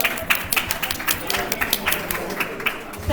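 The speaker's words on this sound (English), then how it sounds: "Everyone, give a round of applause." Clapping from the crowd at a general assembly, a dense, continuous round of applause with many hands close by, holding steady throughout.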